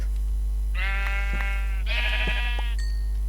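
Sheep in the game Minecraft bleating twice, clear and close, each a wavering nasal call about a second long, over a steady low hum with no voices.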